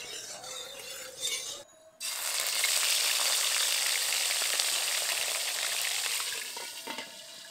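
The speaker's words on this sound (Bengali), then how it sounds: "কড়াইটাকে ভালো করে তাতিয়ে নিয়েছি, এবার সর্ষের তেল দেব। প্রথমে শিঙি মাছগুলো ভেজে নেব।" Singhi fish dropped into hot mustard oil in a wok, a brief pause and then a loud, steady crackling sizzle that holds close and constant for several seconds before easing slightly.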